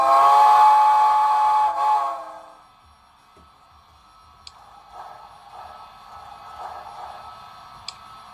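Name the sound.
Hancock 3 chime steam whistle from model train sound decoder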